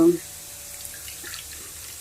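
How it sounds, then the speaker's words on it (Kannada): Water is poured onto tamarind in a kitchen to soak it. A brief splash is followed by a faint, steady trickle, heard alone with no talking. "ಕರಗ್ಲಿಕ್ಕೋಸ್ಕರ ನೀರು ಹಾಕಿಡ್ತಿದ್ದೇನೆ"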